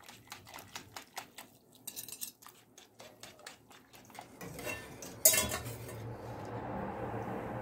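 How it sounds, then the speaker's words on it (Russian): Beaten eggs and broth for Georgian chicken chikhirtma soup are stirred quickly in a pot. A utensil clinks rapidly and repeatedly against the pot, then the sound turns into a swirling liquid wash with a sharp clank, and nobody speaks. "Теперь эти яйца понемножку вливаем вместе с бульоном в основной бульон и быстро перемешиваем"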